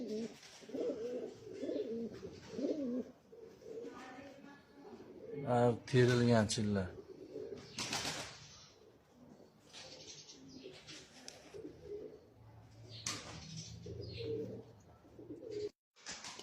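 Pigeons coo steadily at a home pigeon loft, with repeated soft throaty calls, mostly under someone talking and some chirps mixed in.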